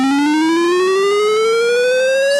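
A pure synthetic computer tone from a C graphics program's sound function, a single steady beep that glides slowly upward in pitch, loud and continuous throughout with no talking.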